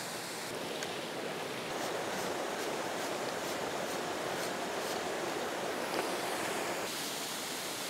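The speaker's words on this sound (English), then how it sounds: "I want to really capture the effect of all of this water coming down and cascading" A waterfall with water cascading down in a rugged landscape, a steady, dense roar of rushing water that holds constant and loud from start to finish, with no voices.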